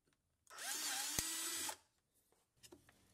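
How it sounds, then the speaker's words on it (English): A drill bores out holes on a PM25 milling machine, stepping up ten thousandths in bit size for a close fit; one loud, steady whirring run of about a second, then quiet workshop clatter. "and I'll drill those out."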